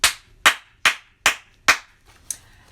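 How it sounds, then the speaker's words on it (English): Five sharp, loud hand claps land at an even, deliberate pace, about half a second apart, followed by one fainter clap after a short pause, with near silence between them. "let's take a moment and clap it up"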